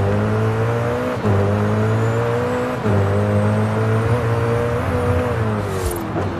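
Car engine driving in Forza Horizon 5, a steady loud drone with rising and falling pitch as gears shift, short dips between pulls, no talk.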